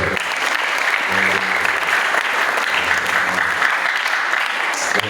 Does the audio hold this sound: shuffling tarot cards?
no